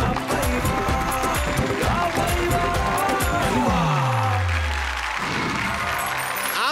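A studio audience applauds to welcome a poet onto the stage of a Hindi comic poetry show, steady clapping at first, then a loud descending electronic sweep cuts across it before music takes over.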